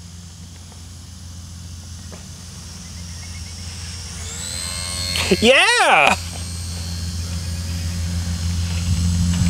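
A Flyzone Fokker D.VII micro electric RC plane, a small World War I model, whines as a steady thin motor buzz, then surges loudly in a rising and falling sweep as it passes close, with someone shouting briefly.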